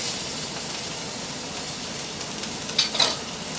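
A freshly flipped burger patty sizzles steadily in a hot pan, a constant close hiss with two brief spattering flare-ups near the end.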